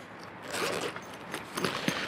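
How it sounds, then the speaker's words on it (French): A YKK zipper on a soft fabric storage bag is drawn along in a few quick scratchy runs, close and fairly quiet, with no talking. "Fermeture éclair en YKK"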